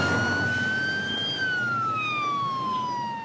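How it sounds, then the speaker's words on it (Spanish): An ambulance siren in Montería, Colombia, wails loudly as it passes, its steady tone dropping in pitch as it moves away, with road noise beneath and no talk. "mira, ahí va la ambulancia que lleva a tu abuelita"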